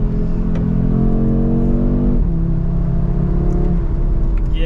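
An Audi RS3 8Y five-cylinder engine drones steadily from inside the car, its pitch climbing as it revs, dropping briefly at a gear change, then rising again, loud and continuous throughout.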